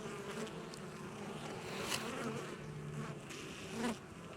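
Honey bees swarming around a beehive on a warm winter day after feeding, a dense continuous buzz close to the microphone, with individual bees droning past loudly now and then.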